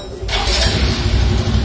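A small motorcycle fitted with a 140cc kit fires up close by after a quiet moment, then settles into a steady, loud, buzzing run that carries on without pause.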